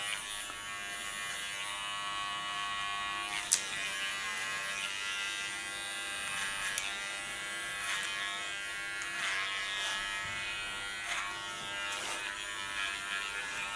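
An electric hair clipper cuts the hair at the back of a short pixie cut with a steady close buzz, its tone shifting slightly as it moves through the hair.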